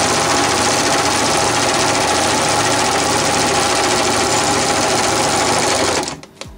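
A Janome 8002D overlock sewing machine stitches fabric in a fast, loud, continuous mechanical whir with a steady rapid rhythm, then stops abruptly near the end with a couple of small clicks.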